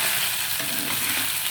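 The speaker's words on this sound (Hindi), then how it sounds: "धनिया खोया लौंग पतला इलायची का मसाला और थोड़ा सा अदरक डाल के चिकन फ्राई कर" Chicken frying in a pan with coriander, cloves, cardamom spice and ginger makes a dense, loud sizzle that runs without a break over a brief moment, with no speech.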